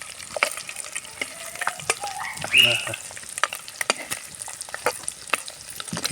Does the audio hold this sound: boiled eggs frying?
yes